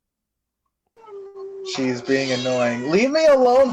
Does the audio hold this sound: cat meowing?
yes